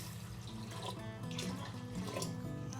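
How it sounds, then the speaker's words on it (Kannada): Water is poured steadily into a homemade Ugadi festival neem drink, a continuous close splashing flow that runs the whole time without talk. "ನೀರು ಹಾಕ್ತೀನಿ ರೀ ಒಂದು ಸ್ವಲ್ಪ"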